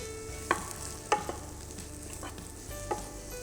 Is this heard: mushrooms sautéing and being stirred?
yes